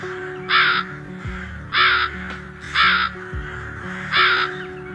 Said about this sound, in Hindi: लोमड़ी की गुफा से जोर जोर से आवाजें आ रही होती हैं कालू कौवे की।